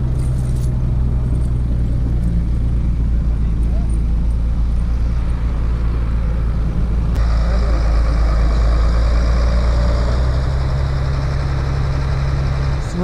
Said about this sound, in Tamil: Snow தள்ளுற வண்டி.